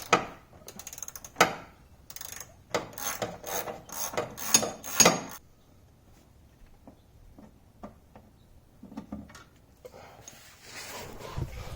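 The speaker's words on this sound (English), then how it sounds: "So you get a socket on there, start cranking down that one" A socket ratchet cranks down a bolt on the front bushing area of a Sportsman 450 ATV, giving a run of close, sharp clicking and rasping bursts, then quieter scattered ticks and light handling noises.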